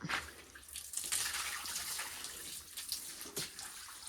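Shower water runs in a steady close spray, splashing and dripping with small shifts in the flow, with no voices over it.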